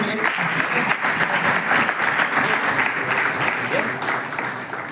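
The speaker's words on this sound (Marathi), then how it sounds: "जरा टाळ्या वाजून" An audience at a school retirement felicitation for a senior teacher claps in dense, continuous applause, with voices murmuring beneath it and the clapping tapering off near the end.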